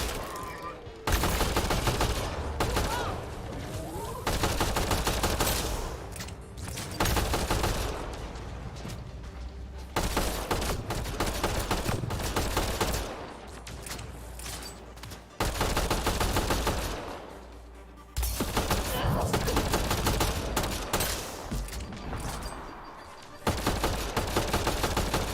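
Rapid bursts of weapon fire in Mass Effect Andromeda's R&D mission, loud and sustained in repeated volleys separated by short pauses, with little talk over it.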